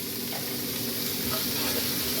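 Onions sizzle and fry steadily in a hot pan, with soft stirring scrapes coming through the continuous crackle at close range and no speech.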